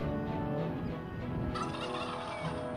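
A wild turkey gobbles in prairie and open woodland in the Black Hills and Badlands region, a short rattling gobble heard clearly but at moderate level over a soft outdoor background.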